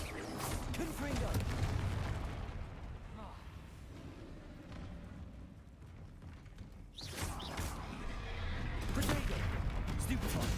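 The Confringo blasting spell is cast in Hogwarts Legacy, giving booming, crackling bursts over a dense game soundscape, with a sharp blast near the middle and rumbling impacts around it while a voice speaks over the action.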